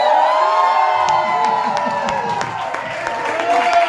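A church congregation at a Mother's Day service applauds and cheers as a family is welcomed, sustained clapping and whoops from a sizeable crowd building over several seconds.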